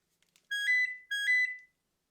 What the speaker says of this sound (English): Who the hell is ringing for this long without giving up?